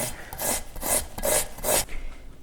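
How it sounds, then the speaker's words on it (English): Zucchini rubbed against a box grater in four or five rhythmic rasping strokes, close and fairly loud, each scrape a short burst followed by a pause. "you're going to want to grate your zucchini"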